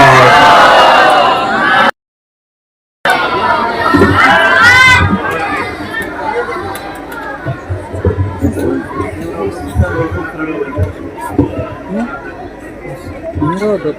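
An audience at a religious education conference in Kashmir loudly shouts welcome salutations in unison, first a strong burst, then a brief silence and a rougher wave of crowd voices, with scattered shouting and children's cries.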